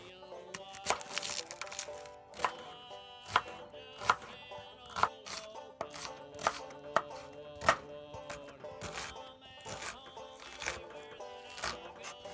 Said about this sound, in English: the first thing I do is I chop up the onion